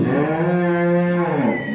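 A single long, deep cow moo close by, rising and holding steady before tailing off, with no other sounds around it.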